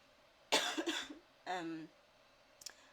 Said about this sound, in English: please forgive me with these coughs